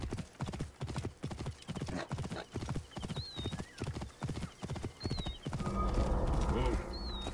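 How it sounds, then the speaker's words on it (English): Horse hooves clip-clop in steady rhythm in Assassin's Creed Origins, a game set in ancient Egypt, close and fairly loud, with a horse's whinny, other game sounds and a rising noisy rumble near the end. "It's just a horse."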